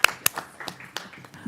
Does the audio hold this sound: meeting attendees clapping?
yes